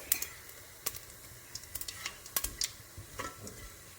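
Fennel seeds, cloves and cinnamon fry in a pan while a spoon stirs them, giving soft sizzling with light scrapes and clicks, close and fairly quiet, no voices.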